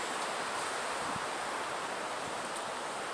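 Steady wind blowing outdoors beside a campfire, a continuous broadband rush with no gusting pauses, fairly loud and alone without any talking.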